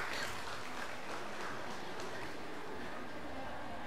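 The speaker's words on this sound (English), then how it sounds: "Please give a clap for him." Steady, dense clapping from a crowd, continuous and fairly loud throughout with no break.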